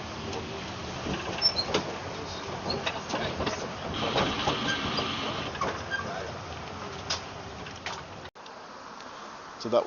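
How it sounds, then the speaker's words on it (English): Steady rumble and rattle of a small open tourist train riding into Zante Town, Greece, with a buzzing engine drone and occasional clunks, fading to quieter background near the end. "So that was our little ride on the train there into Zante Town."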